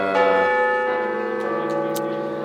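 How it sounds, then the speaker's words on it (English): Bells ring out with sustained, overlapping tones that hum and shimmer steadily for a few seconds, fairly loud and close, with no talking. "the bells are ringing"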